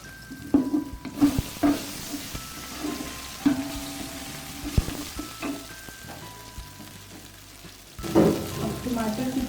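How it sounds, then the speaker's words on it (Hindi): Garlic and ginger sizzle and crackle steadily in oil in a pan, with occasional stirring scrapes and a louder burst of frying near the end. "ये लहसुन अदरक शामिल कर दें और थोड़ा सा इसे फ्राई कर लें"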